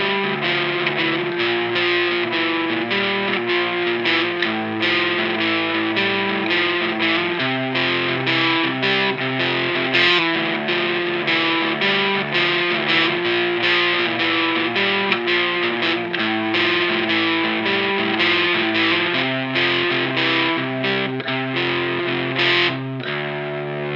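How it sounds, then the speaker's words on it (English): Drop D electric guitar riff played through a Walrus Audio Fundamental Distortion pedal, loud and heavily distorted with chugging, rhythmic palm-muted notes and repeated chord hits throughout. "And I'm using the fundamental distortion for this."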